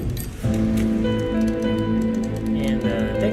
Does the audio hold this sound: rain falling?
yes